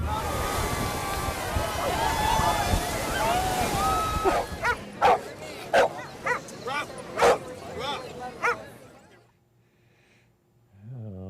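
Dogs bark in a series of sharp, repeated yips and barks close by, first under loud continuous chatter and wind, then standing out on their own before fading to quiet.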